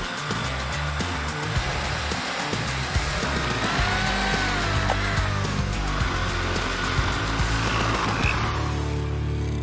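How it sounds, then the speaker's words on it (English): A power drill bores holes in a small homemade mini boom box speaker enclosure, giving a continuous fairly loud whirring grind with small bumps and no speech. "We have a few more holes to drill."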